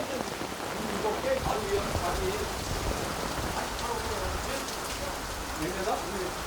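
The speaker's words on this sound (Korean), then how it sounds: "비 너무 많이 온다" Heavy rain pours down steadily, a dense, constant hiss of drops drumming on surfaces that fills the whole stretch at an even, fairly loud level.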